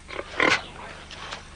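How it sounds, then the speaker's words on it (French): Wild pigs grunt in a comedy film scene, a few short nasal grunts and snorts, one louder burst in the middle, heard fairly close against quiet background. "Oh, ça, les cochons sauvages"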